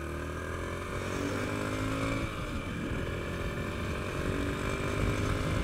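A motorcycle taxi engine runs steadily and accelerates close by, its drone holding constant with a slight rise in intensity over several seconds and no talking.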